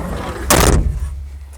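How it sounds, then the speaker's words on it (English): The cab door of a Kubota SVL75-3 track loader swings shut with a single loud, close slam and a short rattle, with faint room noise around it. "close the door."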